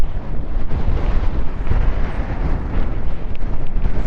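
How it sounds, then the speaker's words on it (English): Strong wind on a mountain run buffets the microphone with a constant loud low roar and gusty rumble, steady throughout with no other sounds standing out. "I'm hoping you can hear me over the wind."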